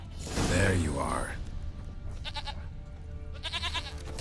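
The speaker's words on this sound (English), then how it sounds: "Here, goat." A goat in The Witcher 3 on PS5 gives one loud, wavering bleat close by, followed by faint rapid mechanical clicking bursts.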